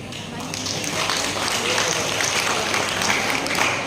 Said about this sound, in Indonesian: Tepuk tangannya kurang meriah.